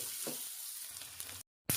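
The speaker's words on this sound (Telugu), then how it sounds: "అలాగనే ఇందులో బాగా ఫ్రై చేసేయండి" Jowar rava being fried in a pan for upma, a steady soft sizzle with faint stirring scrapes throughout, briefly cut to silence near the end before resuming.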